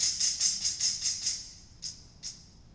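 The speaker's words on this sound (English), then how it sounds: "But you can also hit the tambourine in a certain way too that sounds like this." A tambourine struck in a quick run of about seven even jingling hits, then two separate slower strikes that ring out more softly, with no talking.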